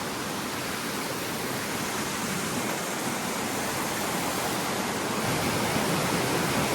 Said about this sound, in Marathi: वॉटरफॉल हो आहे ना.